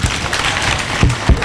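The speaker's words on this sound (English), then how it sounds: "Can we clap her?" Students and an audience at a secondary school brain-challenge competition clap for a contestant in a brief, steady burst of close, loud applause.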